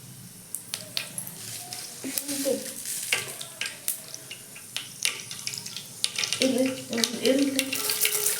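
Cumin and mustard seeds crackling in hot oil for a home-cooked sambar, with soft intermittent sizzling and popping, clinks of a utensil, and faint running water in the background.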